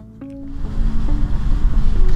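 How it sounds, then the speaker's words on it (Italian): Ocean waves break on a wind-battered coast of Fuerteventura, a rising roar of surf and wind that builds and stays loud after a brief tonal sound at the start. "Questa costa è più battuta anche dalle onde."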